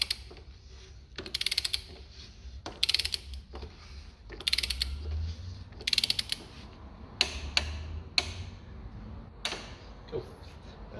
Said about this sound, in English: Grab your torque wrench. It says on top of the bowl 25 Newton meters.